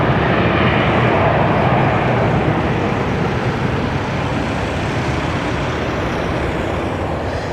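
An Embraer 175 departing Schiphol for Stavanger gives a steady broadband jet roar, moderately loud and slowly easing off as it pulls away.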